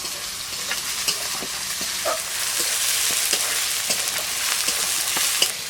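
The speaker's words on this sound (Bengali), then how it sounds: "চেরা করা কাঁচা লঙ্কাগুলো দিয়ে দিলাম।" Slit green chillies sizzle steadily in hot oil in a pan, with a stirring spoon scraping and clicking intermittently throughout, close and moderately loud, cooking for a Bengali fish curry.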